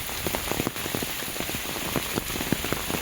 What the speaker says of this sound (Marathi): वरती छत्री आहे, त्याच्यामुळे जरा पावसाची थेंबकळ कमी आहे